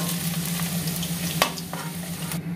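Potatoes frying in hot oil in a home kitchen pan, a close, continuous crackling sizzle with a low steady hum underneath and one brief clink partway through.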